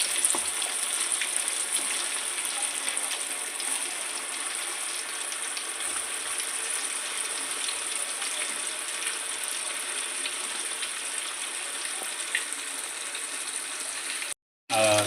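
Fish fries in hot oil with a steady, dense sizzle that crackles on without a break, loud and close, until a brief cut near the end.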